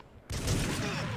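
Dense gunfire bursts in the TimeSplitters Mansion of Madness level, opening after a brief quiet moment and holding as a steady, fairly loud barrage for about a second.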